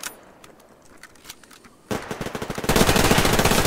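Gunfire in the online shooter game Survarium: scattered faint shots give way to loud, rapid machine gun bursts. The fire grows into sustained, dense automatic fire that continues to the end.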